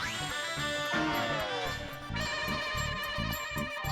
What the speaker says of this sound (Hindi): मेहता साहब को फोन करता हूँ